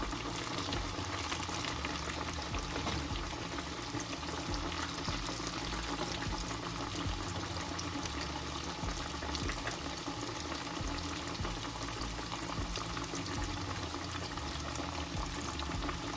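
Catfish filets fry in hot oil at 350 degrees, a steady, dense crackling sizzle that holds evenly throughout with no pauses or voices.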